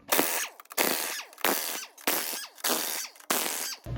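A wrench on a car's wheel lug nuts rattles through six short, loud bursts of rapid hammering, each lasting about half a second with brief gaps between, close up and with no talking.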